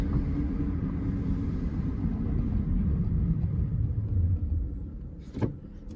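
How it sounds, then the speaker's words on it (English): A 2011 Lincoln MKZ drives through a residential neighborhood, its steady low engine and road rumble continuous and close, easing off near the end with a brief knock. "We're just driving around the neighborhood."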